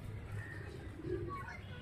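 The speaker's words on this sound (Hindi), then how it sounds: "कबूतर ने कुरेज भी अच्छी करी है" Soft, low cooing of pigeons from a household breeding loft, steady and faint throughout with a murmur of voices in the background.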